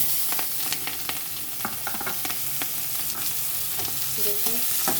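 Sliced onion and whole garam masala frying in hot oil, a steady broadband sizzle with scattered sharp crackles and occasional stirring scrapes, close and continuous, no talking.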